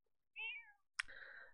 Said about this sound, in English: And our cat, meanwhile, is playing with its ball.